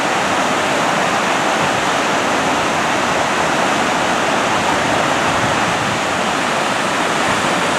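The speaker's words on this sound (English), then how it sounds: "It's just a creek. But man, does it look like a river?" A big, swollen creek rushes loudly and steadily, a dense, continuous roar of fast water running close by, with no voices.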